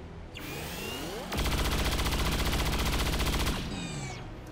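A heavy cannon in the video game XCOM 2 fires a rapid, sustained burst of loud, evenly spaced shots lasting about two seconds, framed by whooshing, whining mechanical sweeps before and after.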